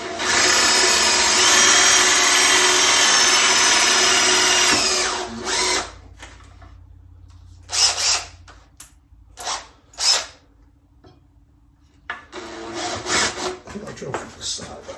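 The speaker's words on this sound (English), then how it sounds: "I'm just going to very carefully drill down into this, right where I want it." A power drill whirs steadily for several seconds, then stops; short bursts of drilling and scraping follow with quiet gaps between them.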